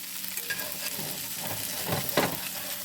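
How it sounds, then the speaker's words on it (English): Hash browns sizzling in a pan, a steady close-up frying hiss with a few scrapes and stirs from a utensil, no voices. "You don't want your potatoes to burn, but you do want them to cook enough to get that little crust right there"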